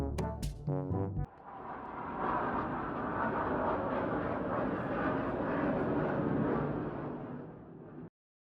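After a brief burst of tones, a military aircraft roars past overhead with a broad, sustained rumble that swells and then cuts off abruptly.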